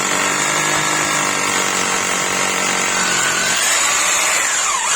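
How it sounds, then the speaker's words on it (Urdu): A Tiger TGP 226 hammer drill bores into stone with a loud, continuous motor whine and hammering buzz, steady throughout with a rising pitch sweep near the end. "بڑی آسانی سے ڈرل کر پا رہا ہوں اس پر۔"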